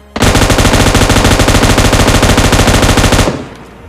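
Automatic weapon fire from the video game PUBG Mobile Lite bursts out loud and close as a rapid, continuous stream of shots lasting about three seconds, then cuts off sharply into a brief fading tail.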